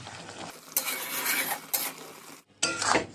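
Boiled amla being stirred with fried spices in a pan, uneven scraping and clinking of a spoon against metal in short bursts with a brief pause, close and fairly quiet.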